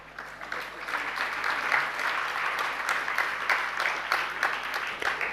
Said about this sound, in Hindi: आपके तालियां मुझे अच्छी नहीं लग रही।